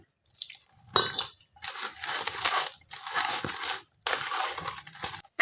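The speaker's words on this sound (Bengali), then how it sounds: "এই মিশ্রণটা কিন্তু এইভাবে ভালো করে মাখাইতে হবে" Banana fritter batter of flour and water is mixed by hand in a bowl, making squelching, crunchy squishes in repeated bursts of about a second, fairly close and separated by short silences.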